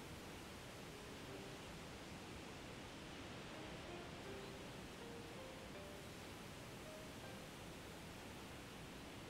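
Waterfalls rush in the video game Shenmue II, a steady broadband hiss and roar that stays constant and even throughout, faint in level with no voices over it.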